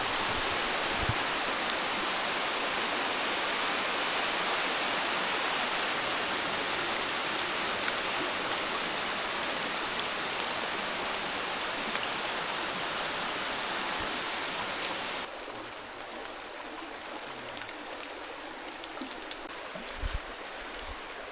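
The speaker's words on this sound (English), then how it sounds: "So it has started to rain significantly harder now" Heavy rain pouring in a forest in the Philippines, a dense, steady hiss of close rainfall that drops slightly in loudness partway through and continues without speech.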